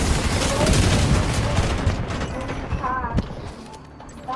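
Gunfire from an enemy player in an online dark-zone shooter, dense crackling bursts and shots dominating the first seconds, then thinning into scattered pops, with voices and game sounds beneath.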